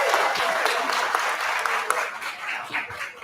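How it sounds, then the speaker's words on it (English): A warm round of applause from an audience at a fashion community festival at The Permanent in Vancouver, dense and loud at first, then thinning out toward the end, with some voices mixed in. "Please give a warm round of applause."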